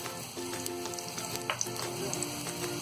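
Cauliflower masala paratha roasts in oil on a hot griddle, giving a steady close sizzle with fine crackling pops throughout and no talking.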